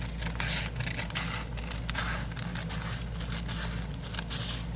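Scissors cutting parchment paper to size, rhythmic close snips and papery crinkling over a steady low background hum.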